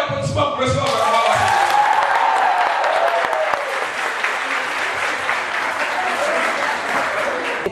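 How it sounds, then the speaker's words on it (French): Dense, loud audience applause at a public event in Conakry, sustained and steady throughout with a few voices and cheers mixed into the clapping. "Et faites un tonnerre d'applaudissements pour recevoir la parole."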